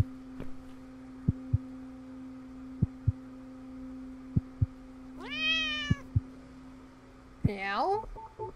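Two drawn-out meows from a cat in the video game The Cat Lady, the second higher and more insistent, sound over a faint steady tone and scattered soft taps in a quiet scene.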